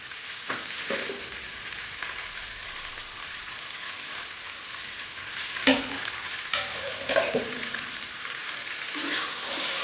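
Small fish frying in a pan with cooked eggplant for a chuno chochchori, a steady close sizzle with stirring scrapes and a few sharper pops and clinks, no talking.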